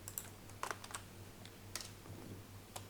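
Typing code on a computer keyboard: quiet, irregular key clicks and taps, a few sharper strokes, close by against a low steady hum, with no talking.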